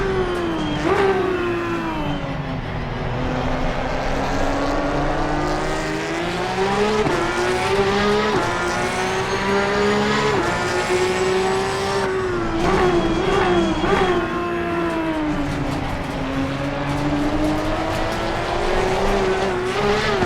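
Porsche 911 GT3 Cup race car in the video game ACC at Donington Park, engine revving steadily up and down through gear changes close and loud, with brief tyre squeals as the rear slides out of corners.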